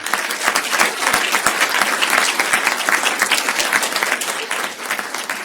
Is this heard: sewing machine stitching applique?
no